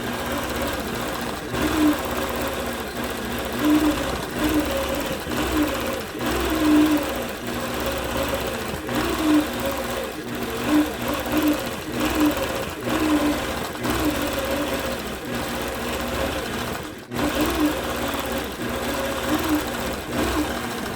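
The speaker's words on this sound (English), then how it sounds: "I'm going to actually stitch the center of this block first before I stitch all the way around it" Sewing machine stitching a polyester-batting baby quilt, a steady close mechanical whir with rapid needle pulses, briefly pausing near the end.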